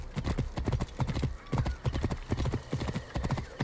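A horse's hooves clip-clop in a steady, close walking rhythm in the video game Assassin's Creed Origins. The footfalls are clear and distinct, with faint game ambience behind them.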